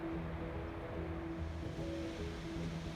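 Steady broadband rush of a mountain waterfall near a glacier crossing on the Manimahesh Kailash trek, a continuous roar with no breaks and no talk.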